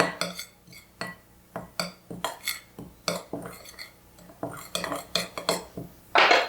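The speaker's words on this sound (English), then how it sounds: "I'm going to stir them with my magic spoon" A spoon stirring dry blueberry muffin ingredients in a bowl, repeated clinks and scraping strokes in uneven bursts, close and clear with no talking.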